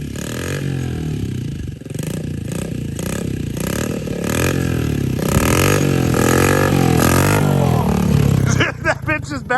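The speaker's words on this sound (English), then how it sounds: "You gotta give her a little throttle and roll into it" A pit bike engine revs hard under throttle, a loud, close, buzzing roar that rises and holds before dropping off, with rattling clatter near the end.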